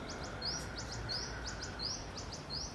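Birds chirp in short, repeated high calls outdoors, spaced evenly through a steady, soft background hiss, with a brief louder knock at the very end.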